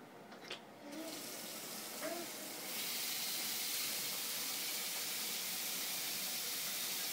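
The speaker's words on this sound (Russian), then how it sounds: "давай, воду выключи." A tap running water into a sink, starting with a few soft splashes and then settling into a steady, close hiss of flowing water, with a voice faintly early on.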